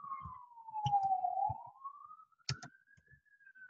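A faint ambulance siren wails outside in a slow rising and falling tone, heard through a room with a few sharp clicks and knocks nearby and no talking.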